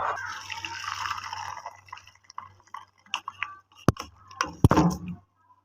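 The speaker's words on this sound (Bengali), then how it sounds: "এবার আমি এই পালং শাকের থেকে জলটা ছেঁকে নেবো" Water from boiled spinach is strained off, with a few scattered drips and light clinks leading to a short, close splashing pour near the end after a quiet start.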